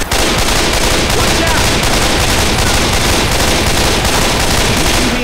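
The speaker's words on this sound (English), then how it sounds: "Try shooting some damn zombies." Sustained gunfire against zombies in Left 4 Dead 2: dense, loud, rapid automatic shots rattling without pause for several seconds, with faint talk beneath.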